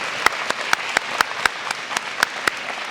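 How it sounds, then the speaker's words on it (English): Applause at a high school scholarship night honoring scholarship recipients, a steady crowd clapping with sharp individual claps standing out in an even rhythm, fairly close and without talk. "if you would join me in giving a final applause to our CEA scholarship recipients for 2023"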